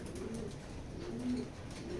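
Racing pigeons cooing softly in a loft, low murmuring coos repeating faintly against a quiet, steady background for about two seconds.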